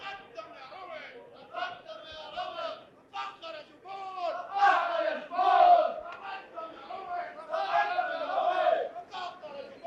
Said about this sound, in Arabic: كويس قوي الهتاف ده